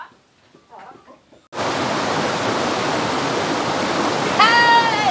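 Steady broadband rush of water pouring over an overflowing reservoir spillway during a flood, starting abruptly after a brief quiet stretch with faint rustling, loud and continuous, with a voice rising briefly near the end.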